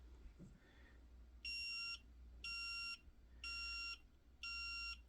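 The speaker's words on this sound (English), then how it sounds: "Notice the blinking and the beeping. That is when we are out of range." A DOVOH K4-360G four-by-360° floor laser level sounds an out-of-range warning: four evenly spaced, loud electronic beeps about half a second each, over a faint background hum.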